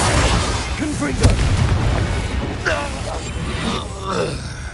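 Confringo blasting spell detonating in Hogwarts Legacy, a dense, rumbling burst that swells and lingers under game ambience and a voice, with smaller crackling pops following.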